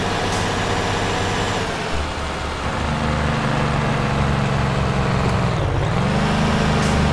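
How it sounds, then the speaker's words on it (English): In the video game Euro Truck Simulator 2, a heavy truck engine rumbles steadily, then its low drone shifts pitch with a deep, throaty jake brake growl that dips and recovers near the end. "I want to jake brake on this view"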